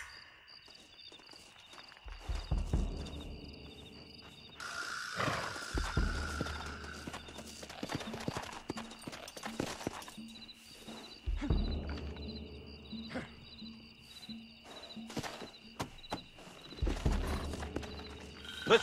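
Hooves clip-clop in uneven bursts as horses shift and walk in the video game Red Dead Redemption, with an occasional whinny and scattered thumps over a quiet game background.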